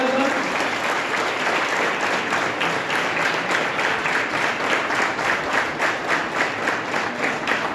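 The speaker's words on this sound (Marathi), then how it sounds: "जोरात टाळ्या वाजवा." An audience at a girls' camp event at Sajjangad claps loudly and continuously, a dense close wash of applause with rhythmic pulses building toward the end, with no talking.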